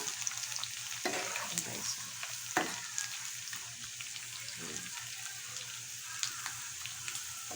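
Tiny alamang shrimp fry in a pan, a steady moderate sizzle broken by scraping stirs and spatula knocks, with a voice briefly speaking over it.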